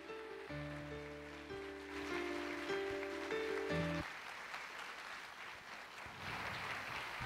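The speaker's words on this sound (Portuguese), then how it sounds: "uma salva de palmas para os nossos astros" A theatre crowd applauds after a hypnosis show, the clapping swelling as a broad wash alongside a few sustained music tones that play at first, then continuing alone at a moderate, slightly distant level.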